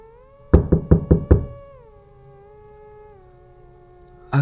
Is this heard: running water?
no